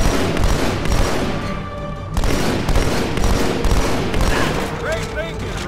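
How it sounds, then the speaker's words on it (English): Sustained gunfire and explosive bursts fill a Halo 2 battle, loud and continuous with brief pauses, while players talk over the action. "I'm standing in front of Chief's bullets"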